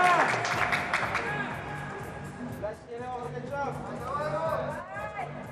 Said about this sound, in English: Appreciated by the audience here. That home crowd support.